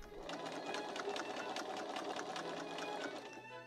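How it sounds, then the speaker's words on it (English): A sewing machine stitches steadily through the boned bodice of a Victorian ball dress, giving a fast, even mechanical chatter close by that stops near the end. "Wrestling the boned bodice of the dress through the sewing machine was tricky"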